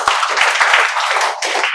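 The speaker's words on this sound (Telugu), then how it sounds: "Very good, claps." A spoken English class applauds in a short, dense burst of clapping from many hands, with a few sharper individual claps standing out at the start.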